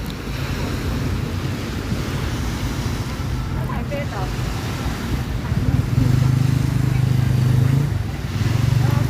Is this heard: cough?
no